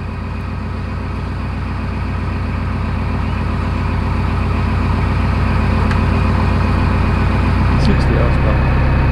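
A 60 horsepower narrowboat engine runs on a canal with a steady low, rhythmic throb, loud and close throughout, rising slightly toward the end, while someone talks over it.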